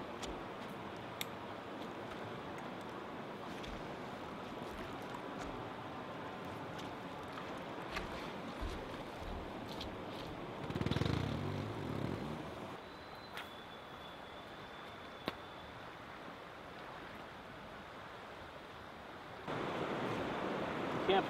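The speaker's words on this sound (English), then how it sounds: "Next to this awesome waterfall, bunch of rapids, very scenic" A steady, faint roar of a waterfall and rapids runs continuously near a wilderness campsite, a broad rushing wash with a brief louder swell partway through.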